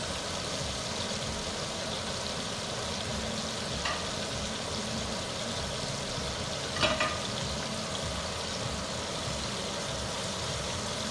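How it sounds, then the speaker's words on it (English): Meatballs (katlete) searing in a pan over medium-high heat give a steady, dense sizzle throughout, with a couple of faint clinks from a utensil partway through. "I'm cooking them medium-high because you want to get a nice sear"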